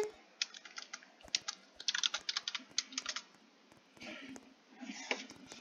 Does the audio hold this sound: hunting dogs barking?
no